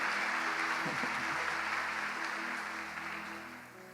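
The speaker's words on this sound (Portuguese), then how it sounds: "Você pode aplaudir ao Senhor?" A church congregation applauds, a steady, dense wash of clapping with faint sustained tones beneath it, holding loud and then easing off slightly toward the end.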